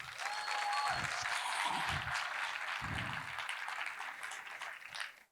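Audience applause at a Lérins Comedy stand-up show in Cannes, a dense steady clatter of many hands clapping with some cheering, loud throughout and fading out at the end.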